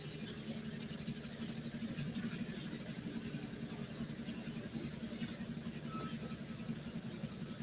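Pulling tractor engine idling while backed up to the sled on the Super Farm side at a tractor pull, a steady deep rumble holding even and loud throughout with arena ambience.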